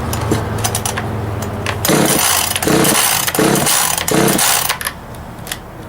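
A small 25cc top-handle chainsaw starts up after a few pulls and runs in short, revving bursts, loud and close, before dropping back to a quieter idle.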